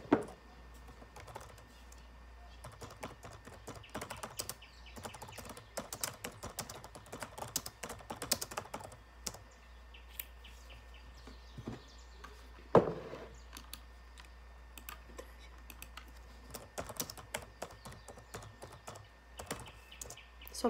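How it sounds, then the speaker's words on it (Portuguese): Keys clatter on a computer keyboard in a steady, uneven stream of close, light taps, with brief pauses and a louder keystroke partway through, over a low constant hum. "Só um minutinho que eu tô escrevendo o conceito no chat."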